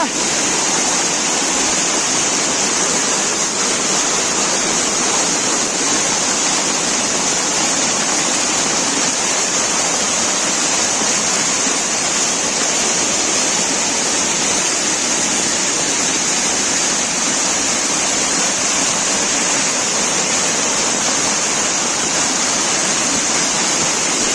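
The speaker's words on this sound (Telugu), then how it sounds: "వాటర్ యొక్క ఫోర్స్ చూడండి ఎంత బలంగా వెళ్తా ఉంది వాటర్ యొక్క ఫోర్స్ ఇక్కడ" The waterfall at Sri Amara Lingeshwara Swamy Kona near Tirupati roars in a loud, unbroken rush of falling water that fills the whole scene.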